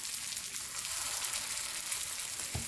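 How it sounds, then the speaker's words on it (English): Potato tikkis shallow fry in about four tablespoons of hot oil, giving a steady, close hissing sizzle that carries on evenly throughout with a soft clatter near the end and no voices. "Then we will start shallow frying our tikkis."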